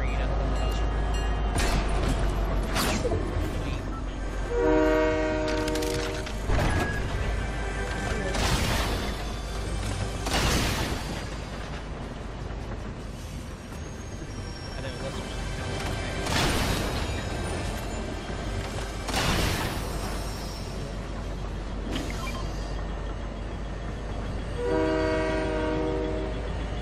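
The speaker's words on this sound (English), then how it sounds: "I'm gonna catch this train." Train in the Fortnite video game rumbling steadily with repeated tonal horn blasts, loud and continuous over dense game effects, with a voice talking over it.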